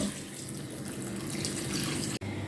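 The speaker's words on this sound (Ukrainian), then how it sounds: "заливаємо 2 літра води" Two litres of water run steadily from a tap into a pot with bay leaf for fish soup, a close, constant gushing pour that stops abruptly near the end.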